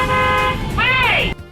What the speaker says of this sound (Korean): 버스 운전기사인 세실리아 네이션 가드너 씨는 운전하다가 소리를 지르며 경적을 울리기 시작합니다